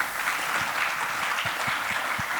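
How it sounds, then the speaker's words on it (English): An audience at an innovation-economy conference in El Salvador applauds, a steady dense wash of many hands clapping at moderate distance, with a few sharper individual claps standing out. "Round of applause, please."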